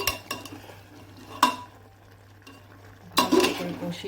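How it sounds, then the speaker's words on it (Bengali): Mutton and tomato being stirred in a pot for Bengali mutton kosha, a low simmering hiss with two louder bursts of spoon scraping and clinking against the metal, otherwise fairly quiet. "এটাকে নাড়িয়ে চাড়িয়ে ভালো করে কষিয়ে আপনারা অনেকটা টাইম নিয়ে কষাতে পারেন।"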